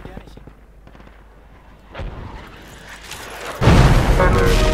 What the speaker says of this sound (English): Somebody's firing.